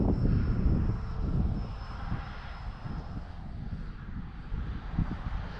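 A faint whine from a 4-cell electric RC model jet, a FLYFANS Red Falcon K-8, drifts overhead with a thin high tone, mixed with gusty wind rumble on the microphone outdoors.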